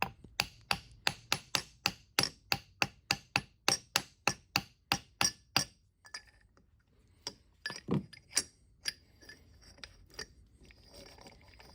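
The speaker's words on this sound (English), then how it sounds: "I'll use a brass hammer here on the front of the spindle just to kind of start it." Brass hammer taps on the front of a Brown & Sharpe universal dividing head spindle, driving it into its bearing: a rapid, even run of about twenty sharp metallic knocks, then a few scattered heavier blows with quiet gaps.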